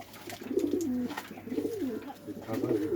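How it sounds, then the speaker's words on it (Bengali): Pigeons cooing on a rooftop near a water tank, soft throaty rolling coos repeating close by in a steady rhythm over a quiet outdoor background. "দেখো কবুতরেরা কত সুন্দর করে খেলাধুলা করে।"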